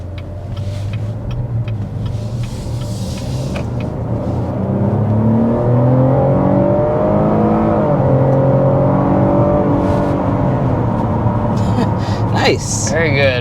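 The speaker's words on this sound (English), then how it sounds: "That's the sound of a V6, naturally aspirated V6, accelerating up to 60 miles an hour." A 2024 Cadillac XT5 with a 3.6-liter naturally aspirated V6 accelerating hard to 60 mph, engine note rising in pitch and growing louder as revs climb through the gears, with a voice talking over parts of the run.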